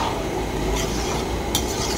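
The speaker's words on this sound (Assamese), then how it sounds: "এয়া চব উতলি আছে" Vegetable dish boiling in a pan while being stirred: continuous bubbling sizzle with scraping stirs of a utensil against the pan, including a sharper clink near the end, no voices.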